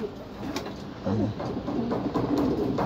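Racing pigeons returning from a training flight coo in low, throaty bursts, several overlapping calls at moderate volume against a constant ambient hiss.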